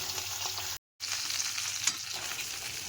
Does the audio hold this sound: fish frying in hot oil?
yes